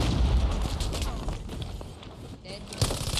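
A dropped bomb explodes on a tank in an online shooter game, a dense booming blast with crackling debris continuing for a few seconds amid overlapping game noise and voices.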